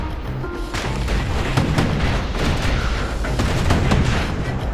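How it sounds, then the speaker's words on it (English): Guns on a security skiff fire in the game Bastion, a loud, continuous barrage of heavy booming shots and blasts that overlap with no pauses and no voices. "A security skiff pulls up portside. Nellie's just another windbag to those guns."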